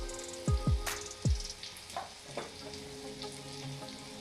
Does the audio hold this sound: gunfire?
no